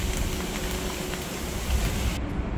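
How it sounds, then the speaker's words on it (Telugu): About a kilogram of sugar pours into a bowl of roasted semolina for rava laddu, a brief, steady granular rush of grains that cuts off abruptly at the end. "కేజీ చక్కెర పోస్తున్నాను."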